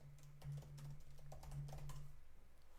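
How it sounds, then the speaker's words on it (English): A command is typed on a computer keyboard in a quick run of soft, close key clicks over a low steady hum, with no talking. "if I type git log"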